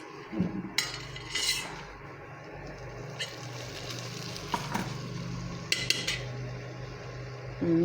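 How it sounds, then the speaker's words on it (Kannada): A spoon scrapes and clinks against a pan as sprouted bean curry is stirred. The scrapes come in irregular bursts over a low, quiet sizzle. "ಇವಾಗ ಇದನ್ನೆಲ್ಲನೂ ಚೆನ್ನಾಗಿ ಮಿಕ್ಸ್ ಮಾಡ್ಕೊಳ್ಳೋಣ."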